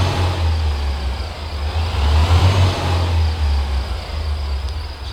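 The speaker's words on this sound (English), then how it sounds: "as we pull out of here, I'm gonna let you guys listen to the truck" Truck engine in the American Truck Simulator game, heard with windows down while pulling out, giving a steady low diesel drone that swells slightly mid-way as it revs, then settles back, with no talk.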